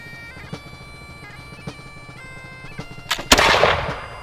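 A historic black-powder weapon, such as a short land musket, fires during a demonstration: one loud, booming shot with a rumbling tail near the end, over a steady musical backdrop.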